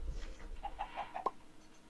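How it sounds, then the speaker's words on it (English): Soft Minecraft chicken clucking after laying an egg, a quick string of about five faint clucks in under a second, low in the mix. "I just heard a chicken lay an egg"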